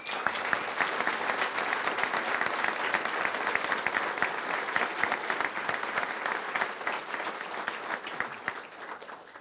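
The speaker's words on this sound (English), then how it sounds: "please give them a round of applause" Audience at a library ceremony breaks into sustained, fairly close applause, a full steady patter of many hands that gradually tapers off near the end.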